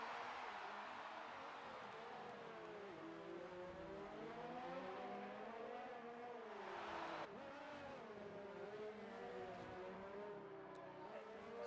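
Formula 1 race car engines in the F1 2019 video game, a high, continuously revving whine that rises and falls through gear changes, loud and steady with no talk over it.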